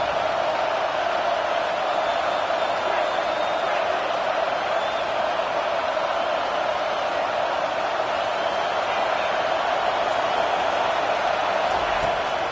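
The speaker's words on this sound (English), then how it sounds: "Listen to this crowd just shaking the girders of this place" Stadium crowd in a college football video game, a constant dense roar of many voices that stays level and loud throughout.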